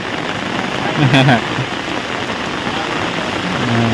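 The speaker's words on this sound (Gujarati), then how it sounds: "જો વરસાદ ફૂલ આવ્યો" Heavy rain pours down in a dense, steady hiss at a village home, staying loud and continuous throughout, with a brief voice rising above it about a second in.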